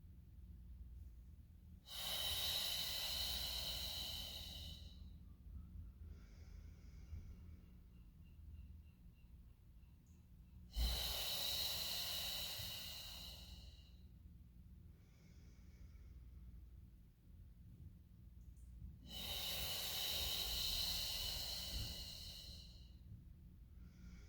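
Slow, deliberate breathing during a Pilates mat class, with three long, broad breaths spaced several seconds apart, each rising and fading smoothly, close and clear over a low steady room hum.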